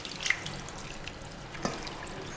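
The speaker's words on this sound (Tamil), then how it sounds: "இது வந்து நம்ம தண்ணி ஊற்றி அலசிக்கலாம்." Water splashes and drips into a bowl to rinse freshly churned homemade butter, faint and close, with a couple of small sharp splashes over a soft trickling background.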